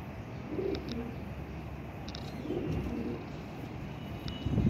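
Low, throaty cooing from a pigeon comes in several short bursts, close by, with faint background noise and a brief louder rustle near the end.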